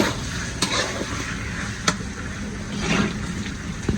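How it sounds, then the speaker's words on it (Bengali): Potatoes and chicken feet frying together in a pan with onion and garlic, giving a steady close sizzle with a couple of sharp utensil knocks over about four seconds, no voices. "এখানে আলু ভাজা হইতেছে আর এখানে মুরগির হাত পাও দিয়ে দিচ্ছি এখানে কষানো হইতেছে"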